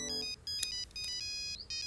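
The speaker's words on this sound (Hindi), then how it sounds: "तब से फोन की रिंग बज रही है" A phone ringtone rings in a waiting area where luggage is being handled, a bright, repeating electronic melody that plays steadily for about two seconds with brief gaps between phrases.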